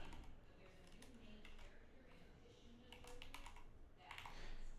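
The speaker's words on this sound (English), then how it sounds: "so I'm just typing in" Soft keystrokes tapping on a computer keyboard while entering text in photo-editing software, a quiet, uneven patter of clicks with faint background noise and no voices.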